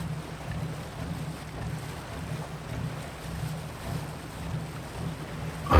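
A riverboat passing close to the shore on a river, heard as a steady low engine drone under wind and lapping water, with a brief louder bump at the end.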